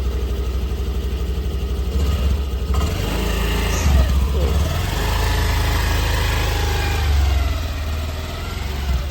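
A scooter engine runs steadily for several seconds, a continuous low hum with a few slight swells in level partway through, close by and without clear talk over it.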